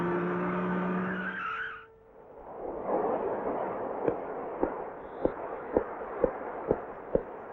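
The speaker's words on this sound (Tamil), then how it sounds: "டிரைவர், வண்டியை ஸ்டாப் பண்ணு." A car skids to a halt as tyres squeal briefly, followed by a run of sharp, evenly spaced bangs over a rumbling background, in a Tamil film scene with no talk.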